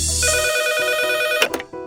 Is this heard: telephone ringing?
yes